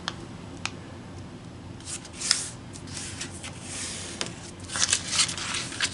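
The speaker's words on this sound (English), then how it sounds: "So fold in half in both directions." A square of thin kami origami paper being folded in half both ways, with soft crisp rustles and sharp creasing swipes scattered through the quiet, close up.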